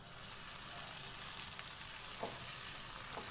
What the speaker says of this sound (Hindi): मीडियम फ्लेम पे इसको हल्का सा फ्राई करेंगे।